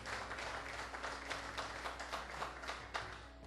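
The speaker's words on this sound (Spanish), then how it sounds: "yo no sé por qué están aplaudiendo" A church congregation claps and applauds during a sermon on prosperity, a steady close wash of many hands with uneven rhythm, lasting throughout with a faint voice underneath.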